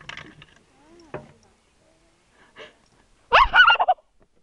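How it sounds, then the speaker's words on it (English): A wild bird makes a few short calls and chirps, faint and spaced out at first, then a louder burst of warbling, gobble-like notes near the end, with a person speaking briefly in the quiet gaps. "Just a wild bird."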